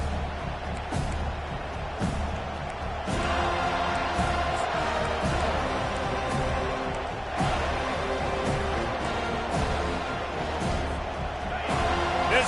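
A packed football stadium crowd at a college game against Georgia roars steadily at high volume, a dense continuous wash of noise with swells, under a commentator's voice.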